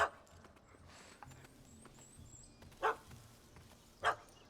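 A dog in The Witcher 3 gives two short, sharp barks, well spaced apart, with faint game ambience between them.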